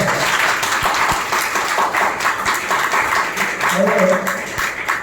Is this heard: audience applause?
yes